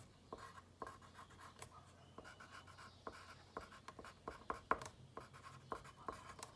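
During a math lesson, chalk or a marker writes on a board in short, irregular taps and strokes. The sound is faint, close and steady, with no talking over it.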